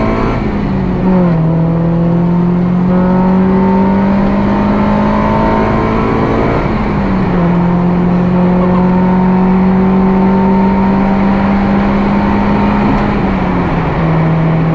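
An engine-swapped Honda Civic revs hard through VTEC, its tone climbing in long sweeps, dropping at each shift and climbing again, loud and close with no talking.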